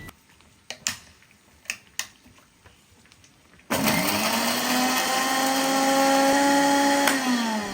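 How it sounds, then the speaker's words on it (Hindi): Green chutney with lemon juice whirring in a kitchen blender, preceded by a few light clicks and taps before the motor kicks in loud and steady for about four seconds. "अब चटनी को ब्लेंड कर लें"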